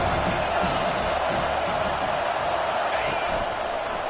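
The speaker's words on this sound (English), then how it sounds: "this crowd is tearing the lid off this place" Stadium crowd at a college football game against Texas A&M roars steadily and loudly throughout, a dense sustained wall of cheering with a commentator talking over it.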